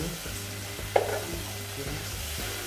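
Spur chilies stir-fried in a pan give a steady close sizzle with a spatula scraping and clacking now and then, one sharper knock near the start, no voices.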